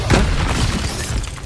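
A fire spell cast in the video game Hogwarts Legacy, a brief loud whooshing burst with a crackling, shattering edge, dense and close for a moment.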